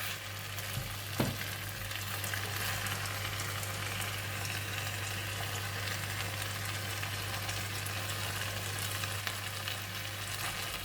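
Rice vermicelli (bihun) and bean sprouts stir-frying for bee hoon goreng, a steady broad sizzle with a constant low hum underneath and one brief sharp clink early on, no voices.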